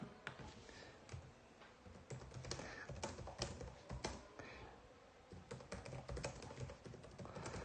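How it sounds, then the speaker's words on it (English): Rapid typing on a computer keyboard while playing the F1 Clash racing game, a steady patter of close, irregular key clicks with occasional louder taps, alone without talk. "You can hear me typing."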